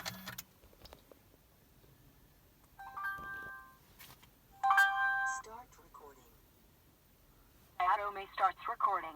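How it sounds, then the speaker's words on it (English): Two 70mai dash cams powering up in a Honda City, giving separate short electronic chime tones with speech-like voice prompts, one set around the middle and a louder burst near the end, clear and close inside the car. "you'll clearly hear the two units starting up and announcing with their individual notifications"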